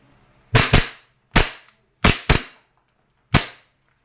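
Five sharp, loud shots from an E&C Glock 19 John Wick Gen 3 airsoft pistol, in two quick pairs and a single, each with a short ringing decay and no talking.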